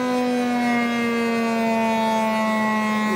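A saw labouring through a partial cut in a wooden chopping board gives a loud, steady motor whine with strong tonal ringing that holds unbroken for the whole stretch.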